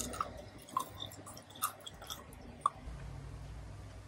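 Crunchy caramelized hazelnuts made with erythritol being chewed close up, a few sharp, distinct crunches spaced irregularly over a quiet room background, with no talking.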